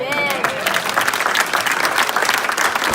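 A crowd at an MLK community breakfast claps hands in a loud, dense burst, with a brief sung or spoken voice at the start and continuous close clapping throughout.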